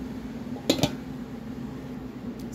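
A lid is set back on a cooking pot of shrimp sinigang after kangkong is added, two quick close clinks over a steady low kitchen hum.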